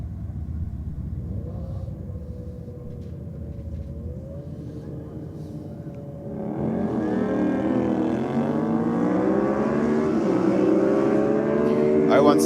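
Drag racing motorcycles tear down the strip at Sydney Dragway on a competition night, a loud engine roar with pitch sweeping upward through the gears, growing louder and fuller partway through and holding strong to the end.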